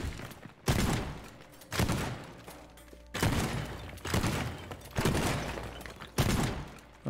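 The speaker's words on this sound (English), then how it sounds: "It's got quite a few shotgun rounds." Shotgun blasts in Teardown come as about six loud, close shots spaced roughly a second apart, each a sharp boom trailing into crumbling debris and rattle.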